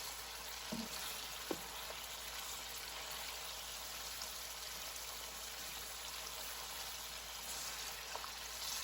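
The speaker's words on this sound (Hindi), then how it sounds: "इसको हम थोड़ी देर फ्राई करेंगे।" Mutton for karahi fries in oil, giving a faint, steady sizzle with a few soft pops and clinks, quiet throughout.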